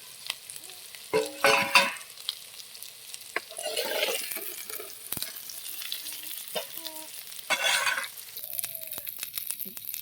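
Potatoes fry in oil in a pan, with bursts of sizzling and stirring scrapes, some soft clinks, and faint talk in the background.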